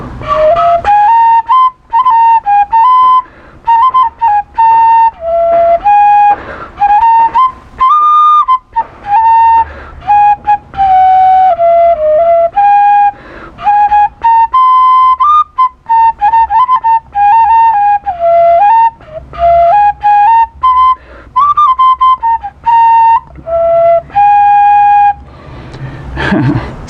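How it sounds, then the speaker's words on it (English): A handmade wooden rune flute with a cork labium plays a slow, wandering melody close to the listener. Its breathy, whistle-like notes are broken by short pauses for breath, with no talking throughout. "this is the flute that I make"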